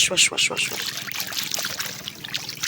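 Hands being washed under running water at a seaside market stall, a close trickling and splashing stream with scattered clattering and voices in the background.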